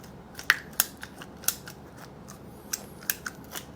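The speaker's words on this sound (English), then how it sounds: "you just cut the bump stops in half" Scissors or a cutting tool biting through rubber suspension bump stops from a Mazda ND Miata, several crisp, close snips and clicks spaced irregularly with brief pauses between them, no talking.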